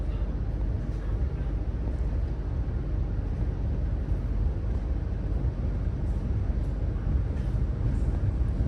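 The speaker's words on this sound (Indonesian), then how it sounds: "pukul 17:47 kereta api Sancaka Utara berangkat dari stasiun Maos." Sancaka Utara passenger train pulling away from Maos station, a continuous low rumble of wheels and engine with faint metallic squeals and clanks rising near the end.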